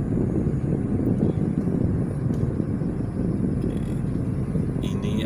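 Fresh wind rushes through the open window of a moving car in a housing estate, a steady, loud, low roar of air and road noise with no break.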